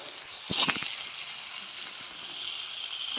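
Chopped carrots and potatoes hit hot oil in a pan, giving a sudden bright sizzle with a few crackles that settles into a steady hiss, close up.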